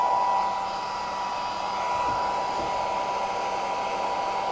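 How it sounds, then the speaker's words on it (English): Heat gun set on low, warming heat shrink tubing on a repaired power cord: a steady, close blowing whir with a constant motor hum, running alone without any talk. "So we'll put the heat gun on low for the heat shrink."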